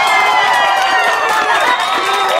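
A woman cheers in a played clip, her loud, steady voice carrying over crowd cheering and applause for about two and a half seconds before cutting off abruptly.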